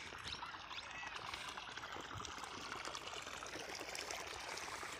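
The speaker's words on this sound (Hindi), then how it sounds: "इसके अंदर साइड से देखिए दोनों का पानी साथ में ही जा रहा है" Water runs steadily through a field irrigation channel feeding a fenugreek patch, a continuous close trickling and gurgling flow with no voices.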